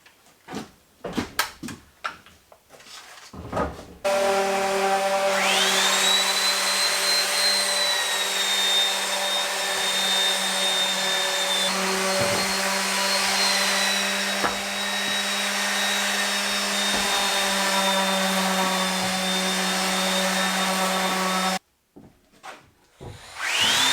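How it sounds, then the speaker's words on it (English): A power sander runs on the edge of a wooden board during a homestead cabin build, a loud steady whine that drones close up for about seventeen seconds between bits of handling noise, with no talk. "Sand it over here? Sand the edge, yeah."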